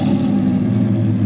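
A straight-piped first-generation Lamborghini Murcielago engine holds a loud, raw, continuous roar at high revs for a brief moment, with no voices.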